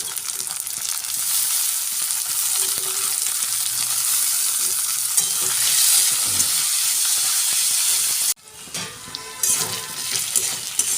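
Diced potatoes frying with onion in a pan, a steady close sizzle that carries on without pause before a brief clatter and a quieter tail of frying.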